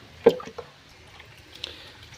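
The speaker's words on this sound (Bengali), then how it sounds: "এই যে আগের পুরো জলটা পুরো তুলে দিয়েছি, জল আর বেশি নেই।" Water being scooped out of a koi and catfish tank during a water change makes a few short, close wet splashes and drips, with a quiet pause between them and no speech.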